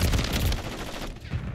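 Rapid-fire VEL 46 submachine gun in a video game, a dense automatic burst at around 16 rounds per second, loud and continuous before easing off near the end.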